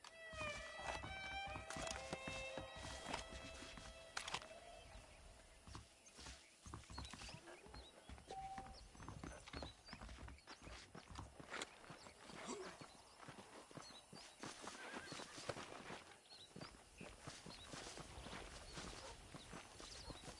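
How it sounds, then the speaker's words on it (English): Horses' hooves clip-clopping in the Red Dead Redemption video game, a rhythmic walking gait of saddled horses that continues steadily and faintly for twenty seconds, with some music early on and occasional mechanical clatter. "The horses are saddled up over here."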